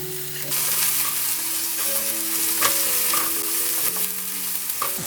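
Onion fries with whole spices and garlic for chickpea curry, a close crackling sizzle over a steady background, with a few stirring knocks and scrapes, no speech.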